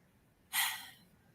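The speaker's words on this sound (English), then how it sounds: "That's my first yawn." A single breathy yawn, a short open-mouthed exhale that swells quickly and then fades over about half a second, close to the microphone in an otherwise quiet room.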